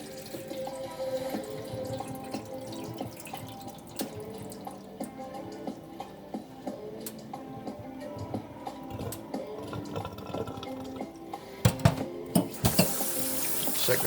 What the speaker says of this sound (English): give the rice a couple wash.